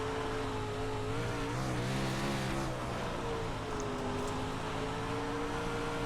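Race car on a dry slick dirt track, the engine droning steadily and then swelling as the throttle comes on, a constant close motor roar with no talk.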